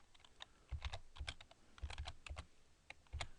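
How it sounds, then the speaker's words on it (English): Keys on a computer keyboard clack in quick irregular bursts, crisp close taps clustered in short runs with brief pauses between them, quiet and alone. "when you press Control F on your keyboard, press the Control button and F button"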